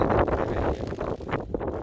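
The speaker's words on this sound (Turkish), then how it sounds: "Bu arada rüzgar çıktı." Wind gusts buffeting the microphone on a sheep farm, rumbling low and uneven in short surges, with no voices.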